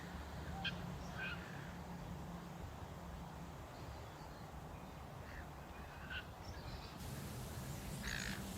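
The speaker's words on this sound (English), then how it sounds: "Duck, duck, duck, duck, duck," Ducks outdoors on a mild winter day quack intermittently at a moderate distance over a steady wash of ambient noise, with scattered calls coming in short bursts.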